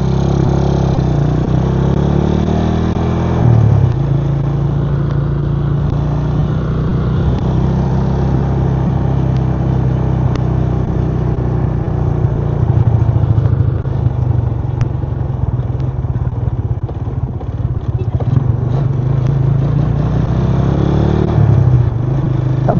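A Yamaha LC135 motorcycle with a mechanical problem that keeps it from going fast drones steadily from up close while being ridden. The engine note holds fairly level, with brief revving near the start and the end.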